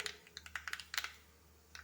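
Mustard seeds pop and splutter in hot oil in a curry pan, a quiet run of sharp, scattered crackles at irregular intervals, clustered early and then thinning out, with no voices.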